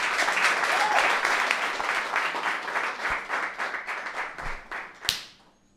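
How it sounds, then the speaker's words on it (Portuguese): A television studio audience claps loudly to welcome a guest onto a talk show, the dense applause thinning into scattered individual claps before a final sharp clap and silence. "quero que recebam com muitos, mas muitos aplausos"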